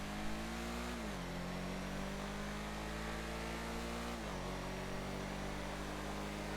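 An Albany Merula in GTA Online drones through its engine at steady revs on a hot lap, loud and close, with two brief dips in pitch like gear shifts before climbing again.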